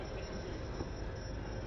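Heritage steam railway carriages rolling between Caernarfon and Porthmadog through Snowdonia, Wales, a steady, dense rumble of wheels on track heard from on board, continuous and even throughout, with no voices.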